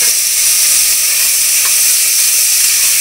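Chopped medium-size native tomatoes hit hot oil in a pan for egg biryani, giving a loud, steady, close sizzle and hiss that continues without a break.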